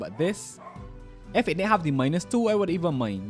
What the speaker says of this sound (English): I hope y'all can hear my dog barking